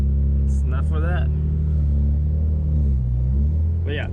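Deep, steady idle rumble from an Infiniti G35 coupe with a single-exit exhaust, close and loud throughout, while someone talks over it.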